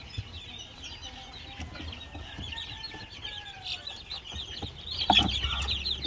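Rhode Island Red chickens cluck softly and steadily inside a crowded brooder, a busy murmur of several birds with one louder squawk near the end.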